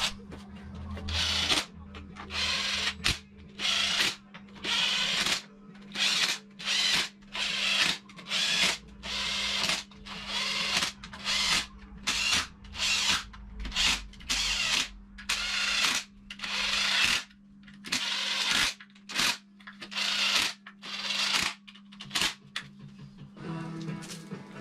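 Parkside power tool driving bolts on a BMW N47 diesel engine crankcase: a long run of short, loud whirring bursts with brief pauses between them, close up, steady hum underneath.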